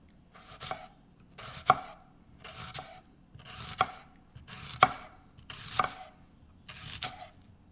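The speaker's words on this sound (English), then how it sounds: "Just do some slices of red onion." Knife slicing through red onion on a cutting board, seven evenly spaced crisp chops about one second apart, close and fairly quiet with no talk.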